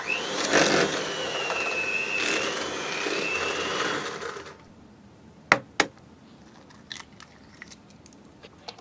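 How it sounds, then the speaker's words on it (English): An electric mixer beats softened butter and sugar in a bowl until light and fluffy, giving a steady, close whirring with a wavering motor whine for about four seconds. It then stops, leaving a couple of sharp clicks and faint rattles. "Then we beat it until it's light and fluffy."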